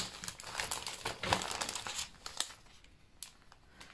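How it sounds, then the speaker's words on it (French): Rice paper rustles and crinkles as it is handled for a steampunk-themed scrapbooking craft, close and fairly quiet, with a steady run of soft crackles and a few sharper crinkles and no talk. "Alors, j'ai du papier de riz."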